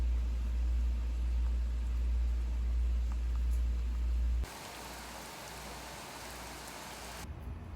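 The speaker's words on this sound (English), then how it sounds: "I'm not working throughout the whole thunderstorm" A Connecticut summer thunderstorm brings steady rain with a deep low rumble under it, then the sound cuts abruptly to a thinner, hissier patter of rain for the rest, fairly loud and without speech.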